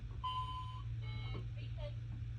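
A talking pocket calculator with an alarm clock function plays short electronic beeping tones, a sustained beep followed by a couple of shorter pitched blips, over a steady low hum, with a voice talking at the same time.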